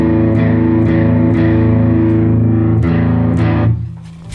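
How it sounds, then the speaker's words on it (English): Electric guitar through a distortion pedal with the drive cranked up to about 130 gives a thick, buzzing, saturated tone. Loud chords are struck several times and ring out, then the sound drops away near the end. "So we're gonna turn the drive up to about 130."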